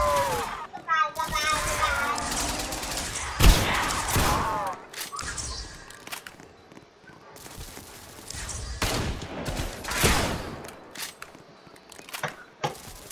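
Gunfire in a zombie video game, bursts of rapid shots and single cracks scattered through the stretch, loud and close, with people talking and a voice underneath.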